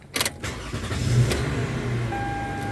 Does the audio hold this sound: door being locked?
no